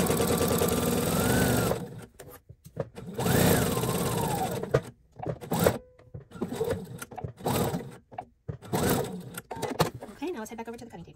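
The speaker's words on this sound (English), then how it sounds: "now we're gonna sew up this side. Fixed stitch or back stitch" A sewing machine stitches the side seam of a lined box-bottom drawstring bag in bursts of a second or two, stopping and starting, with a person talking over and between the runs.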